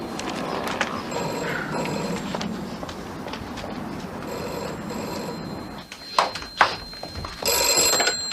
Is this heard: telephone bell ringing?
yes